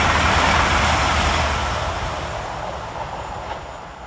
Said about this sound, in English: let's make it a quadruple with the passing of 802010, working 1 Golf 21 for Great Western Railway from London Paddington to Chatham Spa.